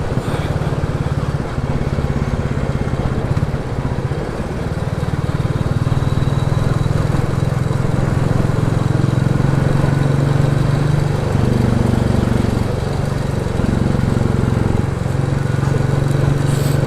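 A tractor engine idles close by, a steady low drone with slight shifts in pitch that runs unbroken and fairly loud throughout, with no talking.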